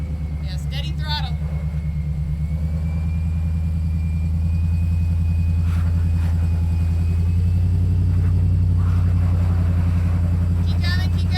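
An off-road vehicle's engine holds a deep, steady rumble under constant throttle as it climbs a trail obstacle, loud and close throughout, with people talking over it.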